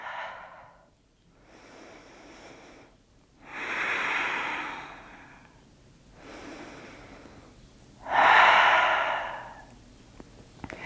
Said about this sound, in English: In through the nose, maybe out through the mouth if it feels good.